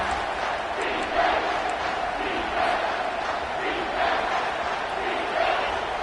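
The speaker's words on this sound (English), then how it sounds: "this crowd will blow out a vocal cord to help this defense" A college football stadium crowd roars for the home defense on third down, a loud, sustained wall of cheering and yelling that holds steady with rolling swells throughout.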